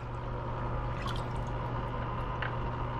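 Liquid Bayer treatment poured into a coral dip container: faint splashing and dripping sit quietly over a steady low electrical hum, with no voices.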